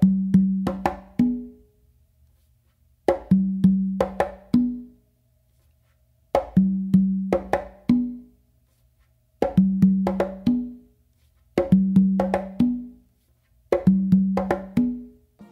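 An Afro beat pattern played by hand on congas, with crisp slaps and deeper open tones in quick clustered strokes, repeating in short phrases separated by brief pauses, close and alone.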